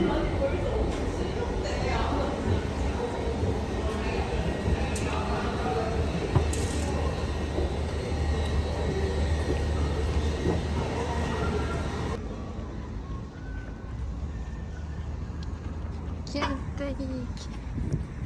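Metro train pulling into a station: a loud rumbling roar with rattles and screechy flecks that drops to a quieter hum after about twelve seconds, with people chattering in the background throughout.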